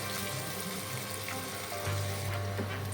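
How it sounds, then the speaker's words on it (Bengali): Steady close sizzle and hiss of chopped onion frying in a pan for eggplant bharta, with occasional faint stirring scrapes and a constant low hum underneath, no talking. "পেঁয়াজ কুচিটা দিয়ে দিচ্ছি।"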